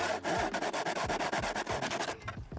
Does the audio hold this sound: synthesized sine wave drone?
no